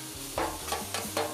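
Two metal spatulas chop cooked steak for cheesesteak sloppy joes on a hot Blackstone griddle, four rhythmic scraping clacks over a steady sizzle.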